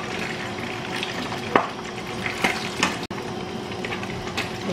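Milkfish belly frying in hot oil, a steady sizzle broken by a few sharp pops and crackles at irregular intervals.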